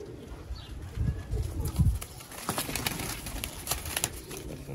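Pigeons at a breeder's coop in Sialkot give soft, low coos in short bursts, heard close and fairly faint, with brief rustles and clicks around them.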